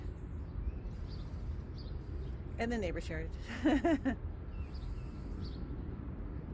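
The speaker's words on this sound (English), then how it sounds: "enjoying again the sounds, our chimes of the birds out here in my backyard" Small birds chirp and call in a backyard, a short burst of clear high chirps standing out over steady low outdoor background noise, with a person speaking briefly.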